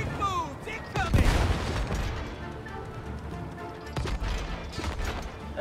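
A few heavy cannon booms and blasts in the video game It Takes Two go off amid shouting voices, with a big burst near the start and scattered impacts later.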